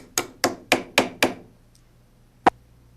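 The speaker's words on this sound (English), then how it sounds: "Use a plastic hammer to drive the bolts through the holes." A plastic hammer drives bolts through holes in aluminum with five close, sharp, evenly spaced knocks, then a pause and one last strike.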